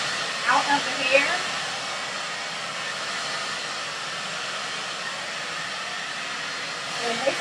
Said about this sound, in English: allow your blow dryer to follow. And dry that hair